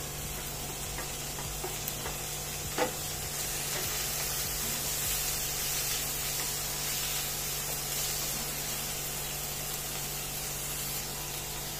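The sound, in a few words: spices, onion and tomato frying in a pan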